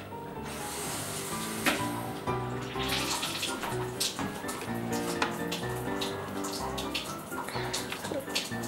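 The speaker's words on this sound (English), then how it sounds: "Turn on your faucet, then turn the PUR filter on. Water must be running through the filter." Tap water runs steadily through a PUR Bluetooth filtration faucet filter, a continuous close splashing rush with scattered clicks and knocks throughout.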